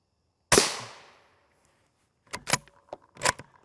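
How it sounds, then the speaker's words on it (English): A single loud gunshot firing M855 ammunition at a Level IV armor plate, a sharp crack with a ringing decay, followed by a few lighter metallic clinks and rattles. "Last shot of M855."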